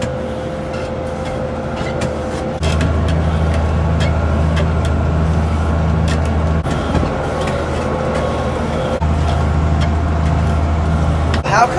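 A tractor pulling a discbine through thin hay, run in fifth gear; a steady loud engine drone with a deep hum and rattling machinery that holds constant throughout, jumping louder after a few seconds.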